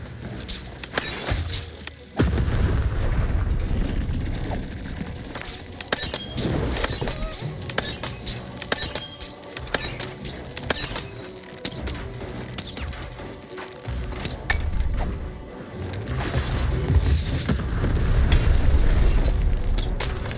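Cannon fire in the video game Lost in Random: repeated loud booms and crashes with mechanical clanks and rattling debris, dense and continuous under game music, growing heavier toward the end.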